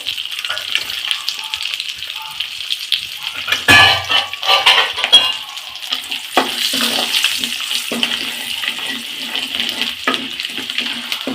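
Garlic sautés in hot oil for Chettinad-style fried rice, a loud, close sizzle broken by clattering utensil knocks and bursts of stirring.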